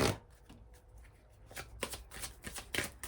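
A deck of resource cards is shuffled by hand in a quiet room, giving soft, close riffling and shuffling bursts that grow busier toward the end.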